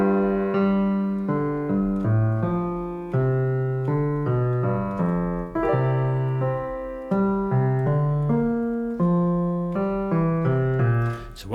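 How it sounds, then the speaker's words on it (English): A song's interlude, with the bass carrying the melody under layered sustained chords, played as steady phrases with no talking over it. "Then it goes to this interlude part, which sounds something like this, where the bass really takes the melody."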